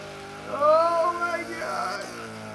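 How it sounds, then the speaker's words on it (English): A 100-horsepower Fiat drift car in a video game skids through a turn, its rising, sweeping tire squeal and engine whine carrying steadily and fairly loud for a couple of seconds. "100 horsepower drift car."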